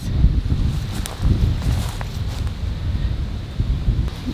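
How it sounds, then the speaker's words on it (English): Gusty wind blowing outdoors in a garden, a steady low rumble of buffeting with rustling, rising in a few stronger bursts, close and fairly loud with no voices. "it'll be too windy for you to be able to hear me"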